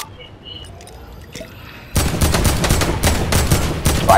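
Sustained rapid gunfire in a Fortnite squad match breaks out suddenly after a quieter stretch, loud, dense bursts continuing close by to the end.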